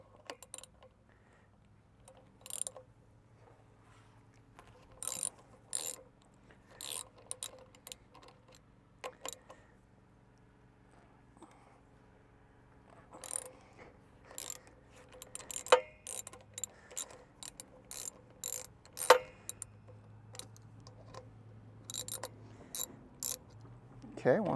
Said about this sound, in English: we'll want to loosen these clevis bolts here so that we can pull the system up and off of the pump head assembly.